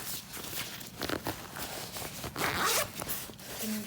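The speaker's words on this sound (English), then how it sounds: "Here's the zipper pocket on the inside." Zipper on the inside pocket of a Travelpro Maxlite 5 tote bag pulled open in a few quick rasping strokes, close up, with rustling of the bag and handling noise around it.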